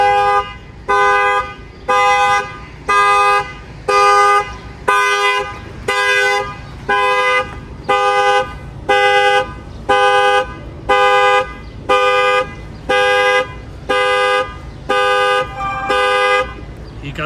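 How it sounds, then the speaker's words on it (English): A GMC Sierra Denali's factory alarm, triggered by a shock sensor, blares in a steady repeating pattern of loud honks, each about a second long, continuing without pause throughout. "that will set off the factory alarm"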